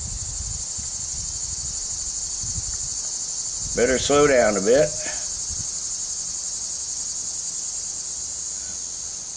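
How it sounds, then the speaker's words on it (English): Steady high-pitched buzzing of annual cicadas fills the whole stretch, loud and continuous, with someone briefly speaking partway through. "Might be able to hear the yearly cicadas are finally coming out."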